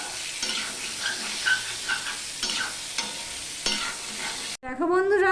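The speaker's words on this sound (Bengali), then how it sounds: "আলুগুলো আমি 2 থেকে 3 মিনিট মিডিয়াম ফ্লেমে আমি ভেজে নিলাম" Potatoes fry in oil over a medium flame, a steady sizzle broken by repeated stirring scrapes, ending in a brief squeaky rattle.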